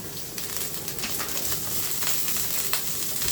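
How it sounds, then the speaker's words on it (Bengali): Crushed garlic added to a pan of already-fried onions gives a steady, fairly quiet sizzle with faint scraping, no talk. "আর পেঁয়াজটা ভাজা হয়ে গেছে তারপরে আমি এখানে তো রসুন যেটা আমি থেতো করে রেখেছিলাম সেই রসুনটা দিয়ে দেব"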